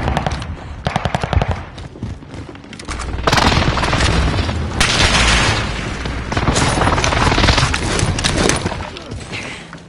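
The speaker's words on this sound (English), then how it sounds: "Enemy precision airstrike!" Precision airstrike explosions in a video game: rapid mechanical rattling gives way to sustained, heavy roaring blasts that swell and rumble loudly for several seconds.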